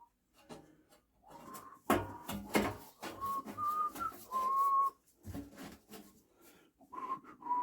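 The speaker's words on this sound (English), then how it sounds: "I'm whistling Christmas songs." A man whistles Christmas tunes in a workshop while repairing an old scrap SIP stick welder with heavy wires on the boom. The melody comes in short close phrases, broken by sharp knocks and clunks from the work.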